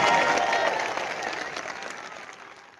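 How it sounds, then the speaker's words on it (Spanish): A crowd at a Catholic church gathering gives a burst of applause that fades steadily over a few seconds. "Un aplauso para la iglesia de nuestro Señor Jesucristo."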